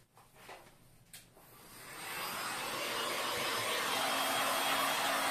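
A hair dryer drying freshly brush-painted car leather seat upholstery starts up after a few soft clicks and handling noises, then settles into a steady, loud, close-up airy roar that holds to the end.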